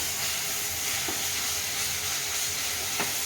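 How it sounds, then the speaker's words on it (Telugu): Mutton frying in a pan for jonna sangati gravy gives a steady, close sizzle with a few brief stirring scrapes and no talking. "కొంచెం ఫ్రై కావాలి మటన్ వేసేద్దాం"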